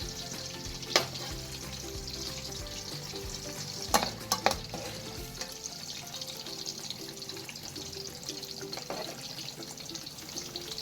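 Griot, Haitian fried pork, frying in hot oil with a steady sizzle and bubbling, joined by occasional sharp stirring clinks and scrapes near the start and middle, close by with no talking.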